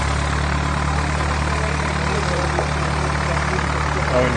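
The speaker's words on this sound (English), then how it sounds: "Maybe a Euro Fox. About to land this bright orange aircraft." A bright orange Euro Fox light aircraft approaches to land during a fly-in event at Barton Aerodrome, Manchester. Its engine makes a steady, continuous mid-range drone while people talk nearby.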